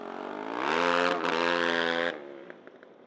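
Two racing quads with engines from very different eras run close together on a dirt track at a night race, a loud rising engine drone that swells and then cuts off, followed by fainter intermittent revving.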